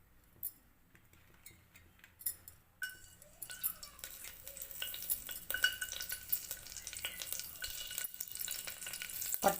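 Cinnamon sticks and cloves drop into hot oil for tomato rice. After a few quiet clicks and scrapes, a sudden sizzle builds into steady crackling frying with a few stirring sounds.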